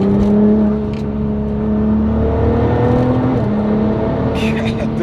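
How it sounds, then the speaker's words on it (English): A Nissan GT-R all-wheel-drive car cruises along twisty back roads, heard from inside as a steady, loud engine drone and road roar that holds through the whole stretch, with a few faint ticks above it. "I'm on these back roads that are twisty and very nice for what we're doing in an all-wheel drive car, which is just cruising down."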